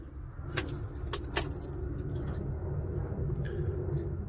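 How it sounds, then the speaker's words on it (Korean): Car keys jangle in a few sharp bursts at the ignition of a parked car in Houston, Texas, then a steady low engine rumble continues without a break. "시동을 켜겠습니다"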